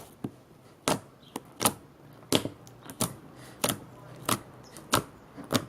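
Homemade slime squished and stretched by hand, giving a series of sharp, close popping clicks spaced at irregular intervals about half a second apart, fairly quiet and without voices.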